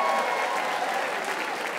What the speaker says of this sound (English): Give a round of applause if you travel